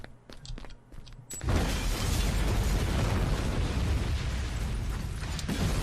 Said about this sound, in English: I think the place is about to explode.